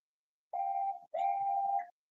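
Two clean whistle blasts mimic Gordon's alternative steam whistle from Thomas & Friends seasons 4 and 5, a short steady tone followed after a brief gap by a slightly longer one, clear and close with no talk.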